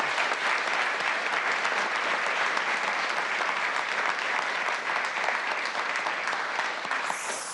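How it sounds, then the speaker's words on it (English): A packed room at a Seattle City Council committee meeting bursts into sustained applause, dense steady clapping from many hands that continues loudly for several seconds. "let's give them a round of applause"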